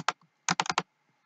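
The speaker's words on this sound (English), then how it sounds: "Sorry for the extra loud clicking." Loud clicks from a laptop touchpad's physical buttons, used in place of a broken mouse during an online Magic: The Gathering game: one click, then a quick burst of four clicks, close and alone.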